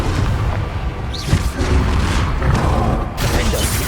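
Confringo fire-blast spells going off during a Hogwarts Legacy duel, a dense run of loud booming blasts and bursts over constant battle noise, with one sharp crack partway through and another surge near the end.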